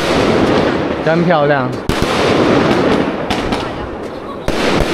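Fireworks set off on a street at night crackle and pop sharply in quick bursts with a few louder bangs. People nearby talk and exclaim over the noise.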